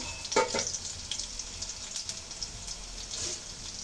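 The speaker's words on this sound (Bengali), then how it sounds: "ঝাল পেঁয়াজ একসঙ্গে ভেজে নেব" Chili and onion fry together in a pan with a little cumin, giving a steady close sizzle and crackle with a few sharp spatters and light stirring clicks near the start.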